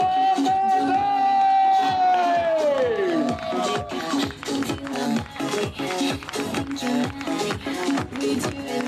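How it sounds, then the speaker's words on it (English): An audience cheers the winners at the SWS International Finals endurance kart race in Campillos, Spain. A long drawn-out shout gives way to rhythmic group clapping mixed with scattered voices. "you make a one big round of applause for our winners"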